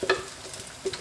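Refried chickpeas frying in a pot give a soft sizzle while a utensil stirs and scrapes them, with two brief scraping bursts over the low crackle, close but fairly quiet.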